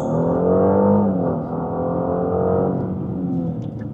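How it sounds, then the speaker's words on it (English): A car engine roars under hard acceleration, a loud, steady harmonic drone that rises in pitch as the car gains speed, heard alone without talk. "So that was all engine roars that we just heard."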